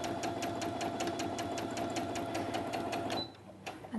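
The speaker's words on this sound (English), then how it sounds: "when I come to start sewing and press the start button, slowly at the beginning it will do 3 stitches forward, 3 back" A Brother A16 sewing machine stitching at steady speed, a rapid even mechanical chatter close to the listener that stops abruptly near the end.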